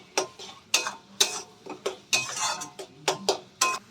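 A metal spoon scrapes and clanks against a pan while cooked spice masala is stirred, making about a dozen sharp, evenly spaced knocks and scrapes close up, with no talk.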